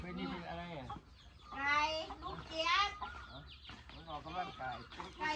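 A fighting rooster, a gamecock, clucks and calls in several loud, close, irregular bursts, with some talk mixed in.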